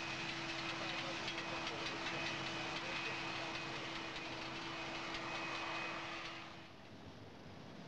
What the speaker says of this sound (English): The royal train pulls into Victoria Station.